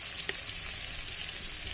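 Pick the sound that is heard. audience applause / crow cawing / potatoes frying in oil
potatoes frying in oil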